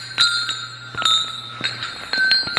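Heavy metal pieces, roughly 300 pounds each, clang together like giant wind chimes, giving off several bright ringing strikes whose high metallic tones hang and shimmer between hits.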